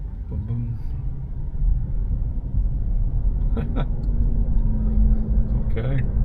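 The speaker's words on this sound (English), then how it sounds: "this truck pulled out into the inside lane because he was going to blast by me" A truck blasts past a car on the road in a rising, close, loud rumble of engine and tyre noise that builds and holds, heard from inside the car with a few clicks over it.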